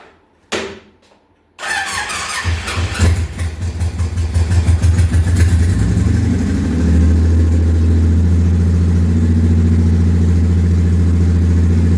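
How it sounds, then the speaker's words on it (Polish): A brief click and pause, then a Honda VTX 1800 motorcycle engine cranks and catches, revving briefly before settling into a loud, steady close-up idle. "zrobimy sobie pierwszy rozruch"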